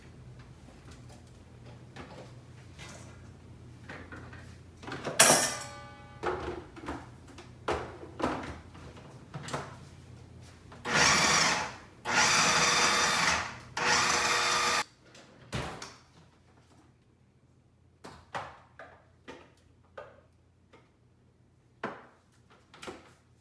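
Chopped hot peppers knock about inside a food processor, with scattered taps and clatters and a few loud bursts of whirring blades.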